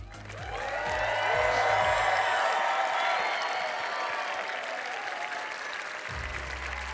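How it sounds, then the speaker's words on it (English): A large crowd at a cosplay contest on stage at MagicCon Chicago applauds a cosplayer with sustained, dense clapping that swells and then holds steady. A few cheers rise over it, and a low music bed runs underneath. "Let's continue this big round of applause."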